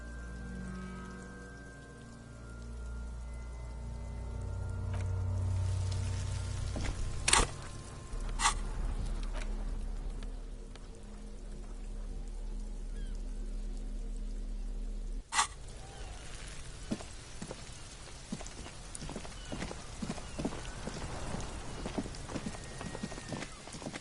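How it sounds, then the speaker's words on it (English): Steady rain falls in the game Disco Elysium, a soft continuous patter with low rumbling beneath and a few sharp knocks and taps scattered through it, all fairly quiet. "It's raining again."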